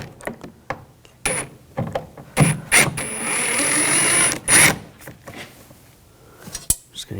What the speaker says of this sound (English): I'm going to take these screws out, use a T20 socket